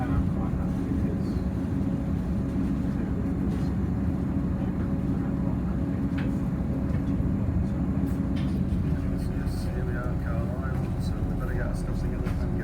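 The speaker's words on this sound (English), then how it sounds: "next train we're going to get now is coming in very shortly on this platform" A Class 158 train, 158-842 from Leeds, pulls into a station platform on a line between Cottingley and Settle, a continuous loud low rumble of wheels and engine with faint squeals, while a voice talks over it.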